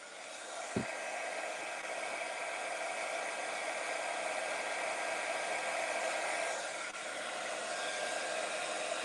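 Heat tool blowing hot air over a craft piece, a steady whooshing fan-and-air hiss that runs continuously at moderate level, starting with a brief click.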